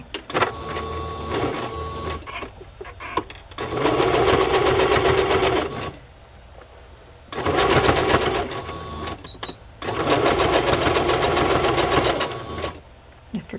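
A sewing machine stitching rickrack trim onto layered fabric in three fast whirring bursts with quieter pauses between, close and clear, with faint handling noise in the gaps.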